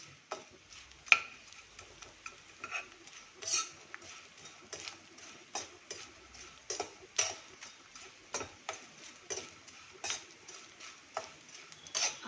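Edible gum (gond) roasting in a pan is stirred with steady, evenly spaced scraping strokes over a faint sizzle, close and moderately loud, with no talking.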